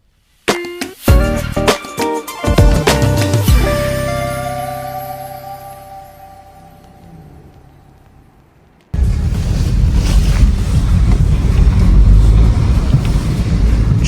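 An Audi A3 with a 2-litre TFSI engine revs in sharp rising bursts that fade away, then gives way to a steady, loud roar of driving noise that holds to the end.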